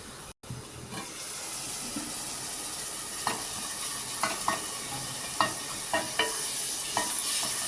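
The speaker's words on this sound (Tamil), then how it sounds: "இது அப்படியே ஒரு 2-3 நிமிஷம் வதக்கிடலாங்க" Chicken thigh pieces sautéing in a pan for a roast, a steady close sizzle and hiss with repeated soft stirring scrapes, no voices.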